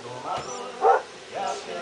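A dog lets out a few brief yelping barks and whimpers during a scuffle with another dog, spaced apart with quiet gaps and a faint voice in the background.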